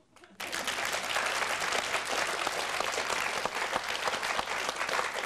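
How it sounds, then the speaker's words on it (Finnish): A crowd breaks into loud, steady applause after a brief quiet moment, dense clapping that continues evenly to the end, with no talk over it. "minähän annoin sinulle taputuksen"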